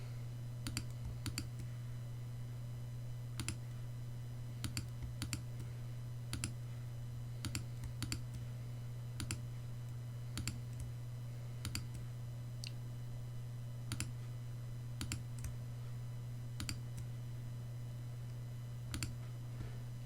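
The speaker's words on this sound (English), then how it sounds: "we just click on each of these points and then we'll right click on it" Mouse clicks during a spreadsheet chart tutorial, sharp isolated taps scattered irregularly through the clip over a steady low electrical hum, close and fairly quiet, with no talking.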